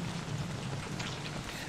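Steady, dense patter of frog rain falling in Don't Starve Together, a continuous close wash of raindrops with no voices.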